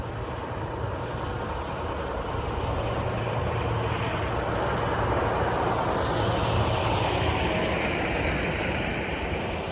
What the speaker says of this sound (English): Except for the noisy trucks.